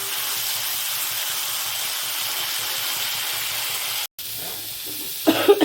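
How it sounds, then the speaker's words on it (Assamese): Sliced bitter gourd fries in a small amount of oil in a pan, giving a steady, even hiss throughout with a brief break near the end followed by a few faint clatters. "গোটেইখিনি ভাজি লওঁ।"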